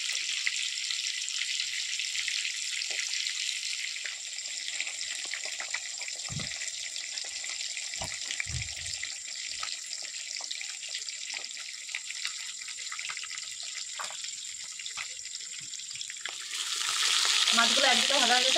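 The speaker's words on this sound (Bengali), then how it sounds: "তো এদিকে মাছ ভাজা হচ্ছে" Pond-caught fish fry in hot oil in a pan, giving a steady, close, crackling sizzle with scattered pops, before a louder rush of running tap water takes over at the end.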